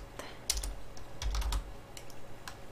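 Fingers typing a search query on a computer keyboard, producing short bursts of quick, close key clicks with brief pauses between them and no voices.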